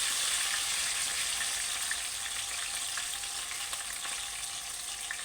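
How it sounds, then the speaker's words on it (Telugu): Bitter gourd slices for a Telangana-style fry sizzle in a pan over high heat, a steady, crackling hiss that runs throughout at moderate volume. "ఇప్పుడు పెద్దగా పెట్టుకోవాలి పొయ్యి, ఇలా వేయించుకోవాలి."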